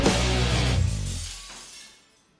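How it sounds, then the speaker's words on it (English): Glass shattering at the close of a song, a loud crashing burst over the final ringing band chord that decays and fades into silence. "there's the glass shattering at the end"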